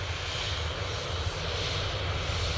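A Ryanair jet at Manchester Airport gives off a steady, broad engine roar at moderate distance, continuous and even throughout with no talking.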